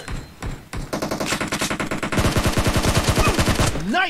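Rapid automatic gunfire in the PUBG Mobile game: a burst of evenly spaced shots that speeds into a dense, loud stream before a short whooshing sweep at the end.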